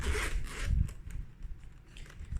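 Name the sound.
zipper opening a carrying case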